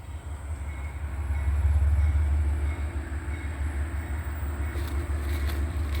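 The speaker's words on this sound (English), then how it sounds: "we had the Abbeville switcher coming in." An Abbeville switcher train rolls in on the rails as a steady, loud low rumble that swells after the first second and holds for several seconds, with faint rail squeal and clatter above it.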